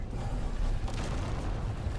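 A cannon blowing up in the space game No Man's Sky, a deep rumbling blast with a sustained low boom and crackling debris over about two seconds.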